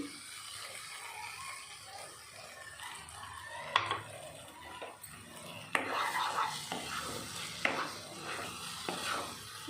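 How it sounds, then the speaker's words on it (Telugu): Baby corn curry being stirred in a pan after yogurt is added: soft scraping and a low sizzle, broken by several sharp clinks of a utensil against the pan, close and fairly quiet. "పెరుగు వేసాక కొంచెం బాగా కలపాలి"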